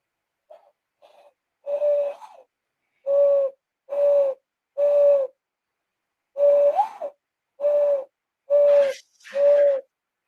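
A person imitates an owl's hoot, giving about ten hollow, tonal coos in a steady series with brief gaps, close and clear with no other talk.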